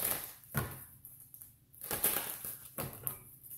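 Tarot cards being shuffled: three bursts of crisp papery riffling and slapping, each about half a second long with quiet gaps between, close and fairly soft, no talking.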